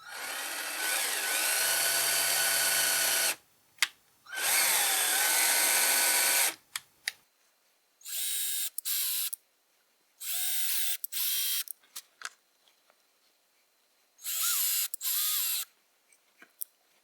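Power drill driving a small 3mm tap to cut threads into a part: long steady whines, then a series of short bursts with pauses and clicks between as the tap is advanced, close and fairly loud with no talking.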